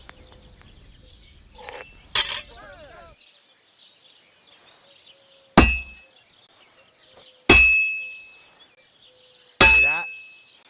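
A hammer strikes heated metal on an anvil at a medieval forge in Kingdom Come Deliverance II. After some lighter knocks early on come three loud, ringing clangs a couple of seconds apart, each decaying slowly.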